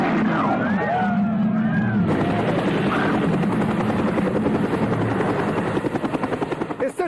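A helicopter flies in a Hollywood thriller dubbed into Hindi. Its steady rotor thump and engine whine run throughout, and the chopping grows sharper and more pulsed near the end, with voices briefly heard at the start.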